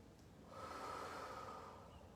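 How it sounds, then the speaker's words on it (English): A long, audible exhale during a yoga session, a soft breathy rush through the nose lasting over a second, close and alone. "Exhale the breath."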